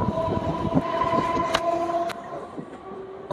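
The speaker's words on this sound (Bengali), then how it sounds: "আর এখন আমাদের সঙ্গে ক্রসিং হচ্ছে শিয়ালদাগামী দ্বিতীয় ভোরবেলার train diamond Harbour Sealdah local" Early-morning Diamond Harbour–Sealdah local train passing at a crossing, close and loud with rumbling wheels and rail clatter, short horn blasts sounding over the rolling noise before it eases off.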